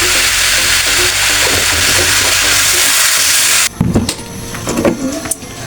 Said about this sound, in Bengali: আমি এখন এই যে ভেজে নিচ্ছি সুন্দর করে।